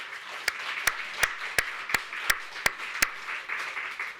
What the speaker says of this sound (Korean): 박수 한번 올립시다.